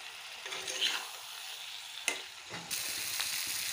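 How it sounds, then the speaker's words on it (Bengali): Fried fish pieces are stirred with spices in a hot pan, giving a steady, close sizzle and intermittent scraping as the spatula moves the pieces around. "এখন আমি ভাজাগুলো দিয়ে আর একটু সাঁতলিয়ে নেব"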